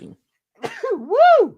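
A single sharp sneeze from a person during a casual sports watch party, short and close, followed by a rising exclaimed vocal sound.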